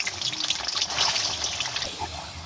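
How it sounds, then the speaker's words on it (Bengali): Raw rice being rinsed and left to soak for a chicken dish, with water trickling and sloshing in a bowl close by, a short continuous splashing wash with no voices. "এই যে এখানে চালটা ধুয়ে পানিতে ভিজায় রাখছি"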